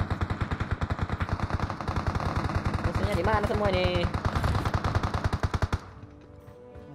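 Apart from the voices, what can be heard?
gunfire in a video game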